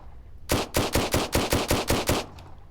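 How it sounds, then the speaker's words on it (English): An assault rifle in the video game ZERO Sievert fires a rapid burst of about nine evenly spaced, loud, punchy shots, close and alone, with no voices heard. "So, we're trying out the assault rifle here."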